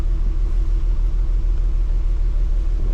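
Nissan 300ZX engine idling steadily after start-up with a knock sensor and timing fault, a continuous low, even rumble close by with a faint steady hum and no speech.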